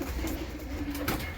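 Teddy pigeons, some of them squabs, coo at a breeding loft in a low, steady murmur that carries on throughout, with a few brief higher calls near the end.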